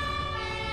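Ambulance siren, a loud steady wailing tone with layered harmonics, continuous and close throughout the short stretch.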